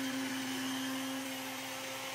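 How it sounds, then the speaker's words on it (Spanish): Kitchen blender running steadily while blending tomato sauce, a loud continuous motor whine with a strong steady hum, alone with no talk throughout. "ya está mi licuadora"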